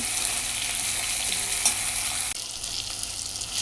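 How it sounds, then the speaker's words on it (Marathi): Onion and chopped tomato sauté in a pan with a steady loud sizzle and occasional stirring scrapes close by, briefly dipping once before the frying hiss resumes. "त्यामध्ये चिरून ठेवलेला टोमॅटो घाला परता छान परतून घ्या"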